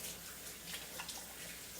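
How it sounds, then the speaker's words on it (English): A kitchen faucet runs while hands are quickly rinsed, a soft, steady hiss of flowing water with a few faint splashes, fairly quiet and alone. "just rinse my hands off really quick"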